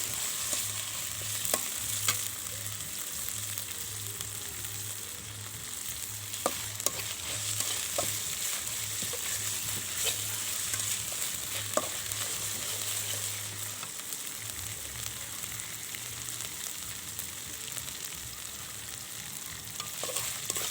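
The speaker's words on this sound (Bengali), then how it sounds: "এটাকে আমি একটু ভেজে নিই। এটা ভেজে নিলে এর কাঁচা স্মেলটা চলে যাবে।" Cumin paste, garlic paste and ginger paste fry in hot oil, a steady close sizzle with occasional scraping stir clicks running throughout, no voices.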